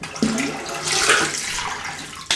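Tap water runs steadily over a Yaqi razor during a rinse, a close hissing splash that swells midway and ends with a short clatter near the end.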